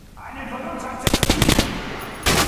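Rapid burst of shots from a quad-barrel gun in the shooter game Metro Last Light, several sharp cracks in quick succession after a quieter hum, then another loud blast at the end.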